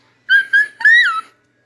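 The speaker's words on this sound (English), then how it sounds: "Austin whistles." Austin, a cartoon caveman character from The Backyardigans, whistles a short tune: three clear, bright notes, the last one rising and bending, loud and alone against silence.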